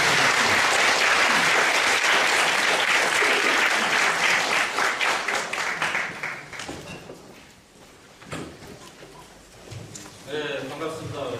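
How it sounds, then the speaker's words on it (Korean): An audience at a lecture applauds to welcome a journalist speaker, loud dense clapping that thins and fades after about six seconds, followed by scattered claps and a voice beginning to speak near the end. "오요로 기자님 큰 박수 부탁드립니다."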